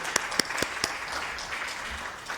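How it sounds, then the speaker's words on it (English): Audience applause for a panel at a university conference session, a few sharp claps at the start then a thinner, moderate patter of clapping from a modest crowd fading across a couple of seconds. "a round of applause for our panel"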